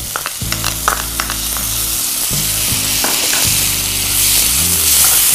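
Tomato pieces frying with keema for a baked kheema egg dish give a steady loud sizzle that persists throughout, with stirring knocks and clatters of a utensil against the pan and some low tonal clanks.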